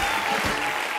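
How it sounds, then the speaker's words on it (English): Studio audience applause at a live television talent show, steady dense clapping filling the space at full volume for a brief stretch, with no voices over it. "keep that applause going for Albert"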